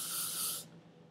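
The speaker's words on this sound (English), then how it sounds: "I'm just pushing up the roots and spraying it with the hairspray." Hairspray hisses in one short, close burst of about half a second onto the hair roots, then cuts off.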